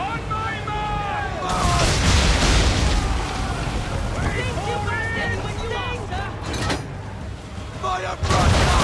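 In an Assassin's Creed III naval battle, swivel guns and cannons fire in loud, rough bursts over constant wind and sea noise, while crew voices shout orders throughout.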